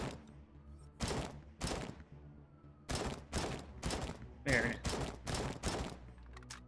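Loud bursts of gunfire in RoboCop: Rogue City ring out in rapid, evenly spaced volleys, each sharp and booming, with a brief pause before the shooting resumes.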